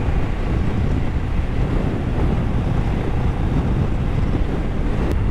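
Sea waves wash steadily onto a beach in a small rocky cove, with heavy wind buffeting the microphone throughout; a loud, continuous roar with no voices.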